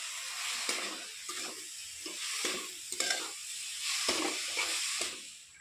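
Grated coconut and powdered sugar stirred in a hot wok, a steady sizzle broken by repeated scraping strokes of the spatula, close and fairly quiet.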